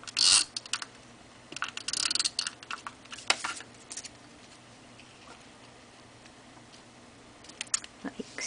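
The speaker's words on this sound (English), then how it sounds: "So I'll just use my tape runner. Stick those down." Short clicking and rasping bursts come from a tape runner pressing adhesive onto a handmade greeting card, close and intermittent with quiet gaps between strokes.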